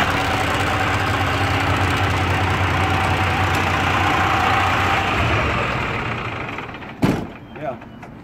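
A truck's diesel engine idles with a steady, loud rumble that runs alone for several seconds, then cuts off abruptly as the engine shuts down, followed by a couple of short knocks.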